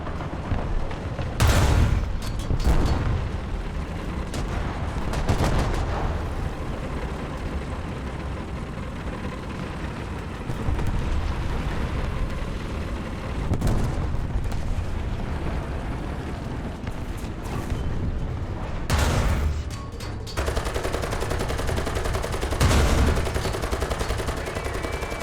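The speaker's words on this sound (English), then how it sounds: "Artillery, fire!" Artillery strikes and gunfire in War Thunder tank combat: a loud, rumbling battlefield with repeated heavy booms and sharp blasts over a constant low roar, the impacts irregular and close.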